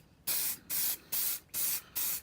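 Base coat primer sprayed onto plastic model kit sprues in five even bursts of loud, close hissing, each lasting about a third of a second with short pauses between.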